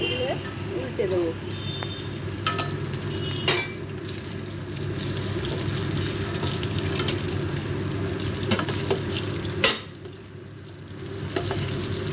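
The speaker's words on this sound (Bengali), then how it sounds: "এরপর আমি এগুলো কড়াইতে তেল দিয়ে এগুলো ভেজে নেব। এরপরে এগুলো ছেড়ে দিচ্ছি, এইভাবে এগুলো ফ্রাই করে নেব।" Dhoka lentil cakes fry in hot oil in a wok, a steady close sizzle with occasional clinks and stirring noises while a voice talks over the cooking.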